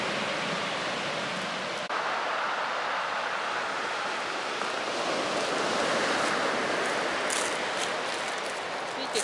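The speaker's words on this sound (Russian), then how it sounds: "ну такая волна сильная тут" Strong sea waves rolling onto the shore at Lazarevskoye on an October evening, a continuous broadband roar of surf with wind buffeting the microphone, loud and close, with no pause.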